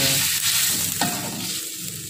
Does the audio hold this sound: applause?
no